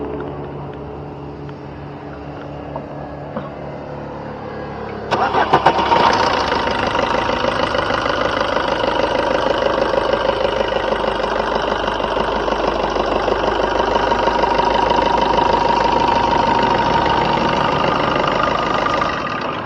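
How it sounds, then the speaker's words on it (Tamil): Maruti Suzuki Baleno car engine starting after a quiet pause, then idling steadily with a smooth, even hum that stays close and constant, with no talk. "இப்போ வாங்க வண்டியோட இன்ஜின் சவுண்டு எப்படி இருக்குது அப்படிங்கிறத கேட்போம்"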